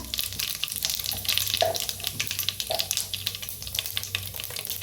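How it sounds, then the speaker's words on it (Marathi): Half a spoon each of mustard and cumin seeds dropped into hot oil: a soft, crackly sizzle with scattered small pops and a few light stirring taps, fairly quiet and with no talking. "आता तेल चांगलं गरम झाले त्याच्यात टाकूया मोहरी एक अर्धा चमचा घेतले जिरे एक अर्धा चमचा"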